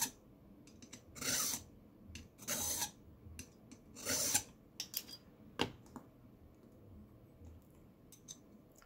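A metal file rasps across a key blank for lock impressioning in a few short, separate strokes, with light clicks and handling noise between them, close and fairly quiet; no voices.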